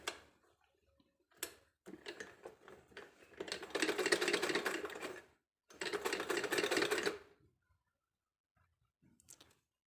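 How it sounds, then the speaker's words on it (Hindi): A sewing machine stitches a small summer dress for a doll in two rapid bursts of mechanical clatter after a few brief taps and pauses, then falls quiet apart from faint handling at the end. "तो हम सिलाई लगाते हैं"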